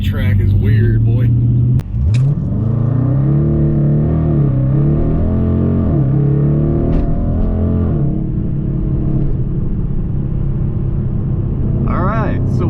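A 2017 Dodge Challenger with a Diablo PCM and Jay Greene tune accelerating hard on a timed run over gravel roads, heard from inside as loud engine revs climbing through gear changes, with voices talking over the engine drone.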